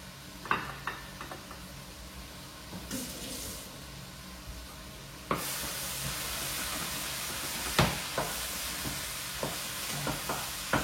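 Beef and sausage meat fry together in a pan for a bolognese sauce, giving a quiet steady sizzle with occasional sharp clicks and pops. The sizzle grows louder partway through.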